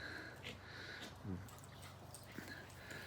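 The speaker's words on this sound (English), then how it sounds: "dogs are having fun back there" Dogs playing and wrestling in the background of a home kitchen make faint whimpers, sniffs and scuffles, distant and quiet beneath low voices.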